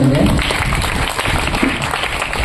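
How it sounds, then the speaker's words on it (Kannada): Loud, dense applause from the audience at a music school's Guru Purnima programme, sustained clapping filling the whole moment with a voice speaking briefly at the start. "ಜೋರ ಚಪ್ಪಾಳೆ ಕೊಟ್ಟಿದೆ"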